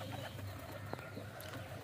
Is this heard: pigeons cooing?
yes